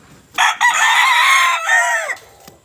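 A young bulik gamefowl rooster gives one loud, close crow lasting nearly two seconds, a brief catch near the start and a falling finish, with no talk.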